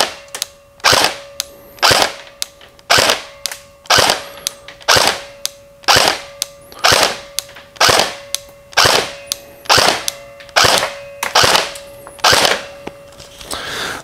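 A KWA Ronin T10 airsoft electric gun fitted with a lower-velocity spring fires 0.20 g BBs in about fifteen evenly spaced single shots, each a sharp loud snap with a short mechanical tail, heard close and alone.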